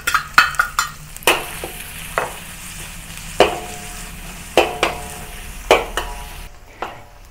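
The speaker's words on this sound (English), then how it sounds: "Now we use the pork fat to saute the aromatics." Garlic, ginger and spring onion sauteing in hot pork fat for a Beijing fried sauce, with a steady low sizzle broken by sharp scrapes and clinks of a spatula stirring in the pan at close range.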